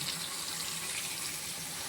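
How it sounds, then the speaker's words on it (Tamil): Dissolved tamarind water pours steadily into a pot of oily brinjal tamarind curry, a continuous close splashing trickle with no talking. "புளி கரைச்சி வச்சுருக்கோம், ஊற்றிக்கிறோம்."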